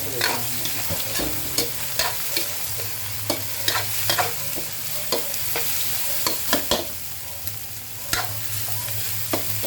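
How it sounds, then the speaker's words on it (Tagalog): Pork belly, shrimp and mussels sauté in a pan for udon, giving a steady close sizzle with repeated sharp clanks and scrapes of stirring at an irregular rhythm throughout, with no talking. "So, igisa muna natin yan."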